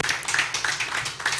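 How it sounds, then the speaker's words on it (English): Audience clapping at the Womanity Index 2023 launch event, a brief burst of many hands with uneven rhythm, moderately loud and close, with no talking. "Please let's keep clapping until she gets here."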